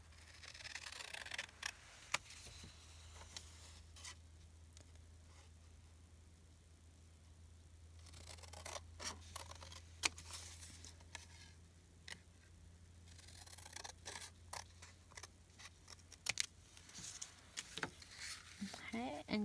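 Scissors cut out a paper tag for a junk journal, giving scattered soft snips and rustles over a steady low hum, with quiet talk in places.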